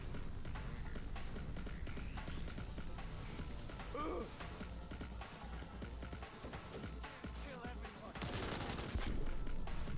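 Gunfire in Cyberpunk 2077 rattles in rapid, dense bursts for the whole stretch. A voice comes in partway through, and the shooting swells louder near the end.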